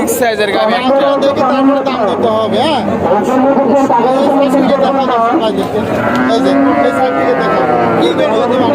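Milk cows at a crowded livestock market moo loudly and close by amid a constant hubbub of people talking.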